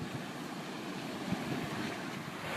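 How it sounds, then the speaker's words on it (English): A small waterfall in the Scottish countryside gives a steady, broad rushing wash of falling water that holds constant and close throughout, with no voices. "There's a small waterfall here."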